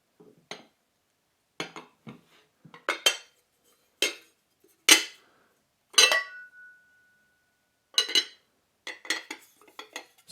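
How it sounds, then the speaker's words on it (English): Le Creuset coastal blue stoneware butter dish being handled and its lid set onto the base, giving a run of separate clinks and ceramic knocks, one leaving a short ringing tone, close and clear with no talking. "And let's put the butter dish together."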